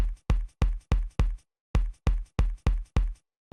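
Evenly spaced footstep sound effects in Unreal Engine 5, crisp and close thuds, one run of about five or six, a short pause, then another run at the same steady pace.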